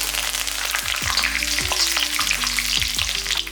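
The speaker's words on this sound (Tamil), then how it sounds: "இப்போ இதில் 1 இனுக்கு அளவுக்கு கருவேப்பிலை போட்டுக்கலாம்." Curry leaves dropped into hot oil with popped mustard seeds and urad dal, a loud, close crackling sizzle with sharp spitting pops and a steady low hum behind it, no voices.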